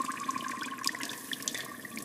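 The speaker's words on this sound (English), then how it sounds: "I fill my water bottle." Water runs steadily from a tap into a water bottle, a continuous close splashing stream with faint dripping ring tones, heard alone.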